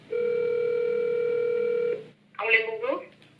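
A steady telephone dial tone sounds for about two seconds during a call, then stops and is followed by a voice speaking.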